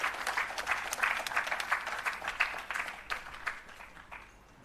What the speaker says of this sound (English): Please give me a round of applause for Mr.